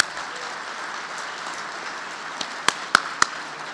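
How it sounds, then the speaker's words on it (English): Steady, dense applause from an audience honoring a Texas A&M Transportation Institute team, a continuous crowd wash with a few sharper claps near the end. "Give another big round of applause to Dennis Christensen and the whole team at the Texas A&M Transportation Institute."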